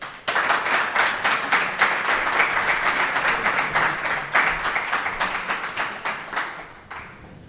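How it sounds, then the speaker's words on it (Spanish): An audience at a lecture gives a loud, sustained round of applause for the speaker, many hands clapping steadily before the clapping thins out and fades at the end. "Un aplauso."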